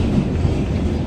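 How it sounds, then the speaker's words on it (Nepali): Inside a moving train, a steady low rumble of the carriage and rails runs throughout, close and continuous, with no voices. "फाइनल्ली अब हामी ट्रेनमा चढ्यो"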